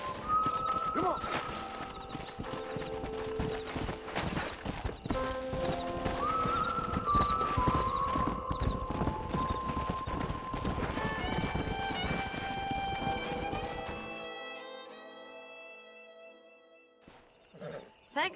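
Horses in the Red Dead Redemption video game: hooves clip-clop steadily through most of the stretch while a horse whinnies and neighs loudly several times, all over a dense game soundtrack, ending in a brief near-silence.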